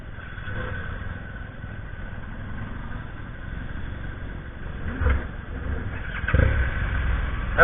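Honda XR150L dual sport motorcycles idling together outdoors, a steady low engine burble with a couple of louder revving bumps toward the end, no talk.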